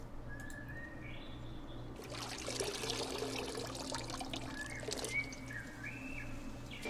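Water poured in the video game Witches Legacy: The Dark Throne, a steady trickling splash that lasts several seconds over looping game music and bird chirps.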